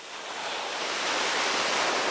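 Sea surf washes in at the shoreline, a close, steady broadband hiss that swells slightly louder as a wave breaks, with no voices.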